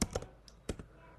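Keystrokes on a computer keyboard while entering a move in a C++ rock, paper, scissors program: a few sharp, close clicks in quick clusters, separated by a short pause, with no talk.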